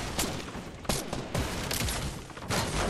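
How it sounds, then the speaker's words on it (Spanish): Rapid bursts of gunfire from the Fortnite: Battle Royale video game, including a heavy pistol, crackle loud and close in repeated volleys across the whole stretch, with brief gaps between bursts. "Me están disparando desde otra parte."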